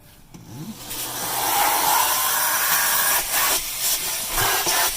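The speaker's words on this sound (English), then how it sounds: "pull it back a little bit and vacuum all the crevices, because things will get stuck in there" A vacuum cleaner works through crevices in a Tesla car interior, a loud steady whooshing roar with brief dips as the nozzle shifts position.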